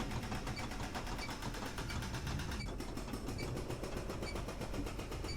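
Automated turret in the 7 Days to Die video game firing a steady rapid stream of shots, a dense mechanical rattle that runs evenly and loudly from start to finish.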